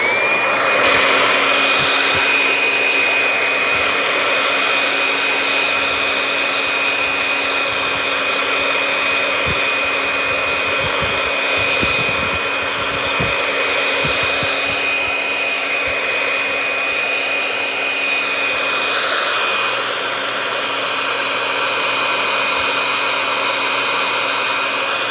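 A hair dryer blows steadily for the whole stretch, close and loud, drying a freshly printed T-shirt; its constant whine and airy rush hold without break, with no talk over it.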